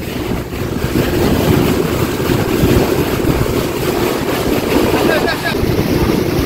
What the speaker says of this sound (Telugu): అసలు అలల పైన రాకెట్ లాగా వెళ్తా ఉంది బోటు